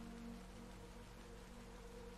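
Steady rain falls through a rainy forest in Sonic Frontiers on PS4, a soft continuous hiss of drops with a low constant hum beneath, unbroken and even throughout with no talk.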